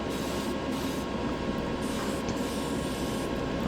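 Ivory spray paint hisses steadily from a can onto a diecast car casting over light gray primer, a continuous close spray with a broad airy wash and a low mechanical undertone throughout.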